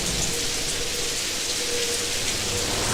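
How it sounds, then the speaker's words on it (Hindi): Steady rain falls outside in a horror story setting, a dense, even hiss of drops on surfaces that stays loud and unbroken throughout with no voices. "बाहर बारिश शुरू हो गई थी।"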